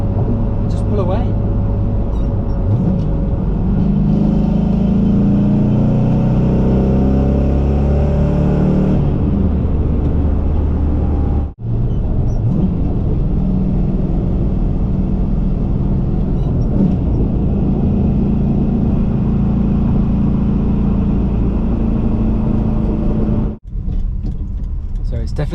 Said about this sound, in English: The drone isn't too bad from the exhaust. You know you could drop it down a couple of gears, so this is in sync. And just pull away.